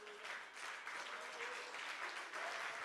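A church congregation applauds God in a sustained wash of clapping and cheering, dense and continuous, with rhythmic surges and voices mixed into the noise, heard from within the room.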